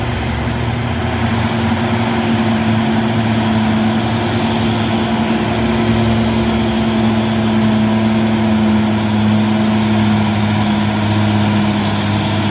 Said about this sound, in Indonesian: Ada truk Hino putih menanjak.